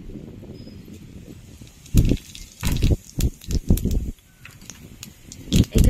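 Whole dried chillies and cumin seeds dropped into hot oil for a chicken curry, giving bursts of crackling, spitting sizzle that swell and fade in uneven waves, close and without voices.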